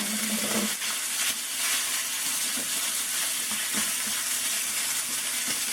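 Meat sizzles steadily in about a tablespoon and a half of oil in a hot pan as filling for Philly cheesesteak stuffed portobello mushrooms, a dense constant crackle with occasional sharper pops and scrapes, close and alone.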